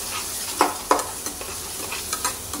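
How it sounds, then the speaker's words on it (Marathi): A Maharashtrian spice paste with turmeric roasts in a pan for chole, with soft frying sizzle under several sharp scraping strokes of a spoon stirring at an uneven pace, close and clear. "थोडीशी हळद घालूया आणि हलवून घेऊया चांगलं। चटणी चांगली भाजून घेऊया।"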